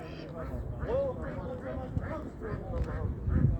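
Poultry and other birds at the Ganja bird market in Azerbaijan, with ducks or geese quacking and honking in a noisy crowd under someone talking.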